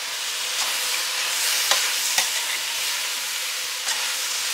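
Chili being stirred in a pot after a level tablespoon of very spicy organic chili powder goes into the meatless mix, a steady sizzling hiss with a few soft scraping knocks of the spoon throughout.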